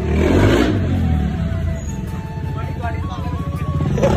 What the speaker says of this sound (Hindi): कैसी लगी साउंड? गाड़ी पागल हो रही है फिर से।